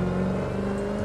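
A Koenigsegg Agera's engine revs in the racing game The Crew 2, a brief, close, sustained droning growl with steady harmonic tones and no voices.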